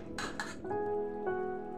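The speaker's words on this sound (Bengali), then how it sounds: "এবার আমি মিডিয়াম ফ্লেমে কন্টিনিউয়াসলি নাড়াচাড়া করে মশলাটা থেকে তেলটা আলাদা হয়ে যাওয়া পর্যন্ত এটাকে ভেজে নিচ্ছি।" Spoon scraping and clinking in a pan as masala gravy for Punjabi-style rajma fries with ghee over medium flame, a few close metallic stirring strokes followed by steady faint sizzling.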